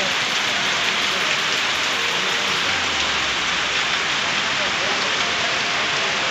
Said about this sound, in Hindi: इतनी तेज बारिश पड़ रही है कि ग्राहक भी नहीं आ रहा है दुकान पर।